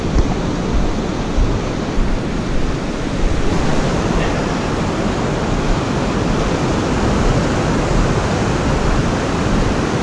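Loud ocean surf surges at Muriwai beach, a dense continuous roar of breaking waves and wash with no voices.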